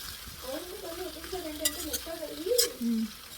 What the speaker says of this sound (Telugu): కొంచెం లో ఫ్లేమ్లో పెట్టి ఇంకా కలుపుతూ ఉండాలి